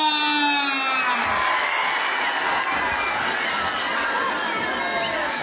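A crowd at an outdoor wrestling ground cheers and whoops loudly and continuously, a dense roar of many voices with shouting, while a held tone fades out near the start.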